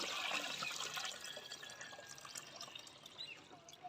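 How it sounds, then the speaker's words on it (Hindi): Water poured into a cooking pot for 1.5 kg of rice, a steady splashing and gurgling flow that runs the whole time and eases slightly toward the end. "पानी ऐड कर देंगे।"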